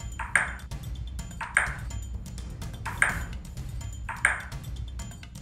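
Table tennis ball hitting paddles in an animated cartoon, four crisp pings evenly spaced about a second apart over a low background rumble.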